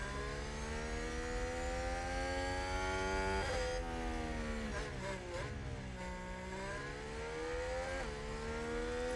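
Formula 1 race cars lapping the track in F1 Manager 2022, with high-pitched engine whines rising and falling as several cars pass and shift gears, sustained and fairly loud with no talking.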